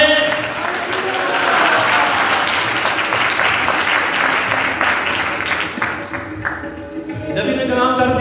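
Congregation at a Sunday church meeting breaking into sustained applause, a dense wash of many hands that fades toward the end as a preacher's voice returns.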